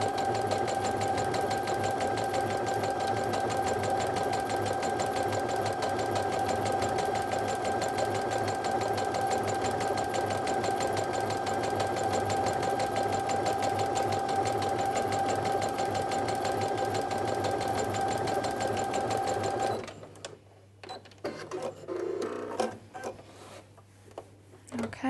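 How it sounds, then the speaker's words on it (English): A Brother sewing machine fitted with a walking foot runs at its maximum speed in a steady, fast, continuous whir for about twenty seconds, then stops abruptly, leaving quiet handling noises. "And this is the maximum speed that I would go at when using the walking foot."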